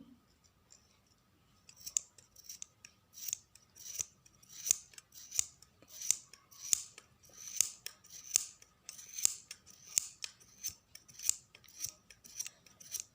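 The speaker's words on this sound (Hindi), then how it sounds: "और हमने दोनों तरफ से इसको कैंची से काट देना है इनको।" Scissors cutting knitting yarn tied off for a knitted cap, giving a series of about a dozen sharp snips at a fairly even rhythm, close and fairly quiet, with no talk.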